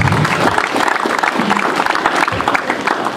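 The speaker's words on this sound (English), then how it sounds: "Put your hands together for Jesus Christ." A congregation claps during a church service, dense continuous applause filling the room steadily from start to finish, loud and close with a voice faintly underneath.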